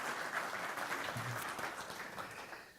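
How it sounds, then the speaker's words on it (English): Keynote audience applauding steadily, a thick wash of many clapping hands sustained across the whole stretch and tapering a little at the close, with no speech over it. "while we're applauding"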